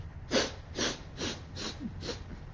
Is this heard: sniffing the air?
yes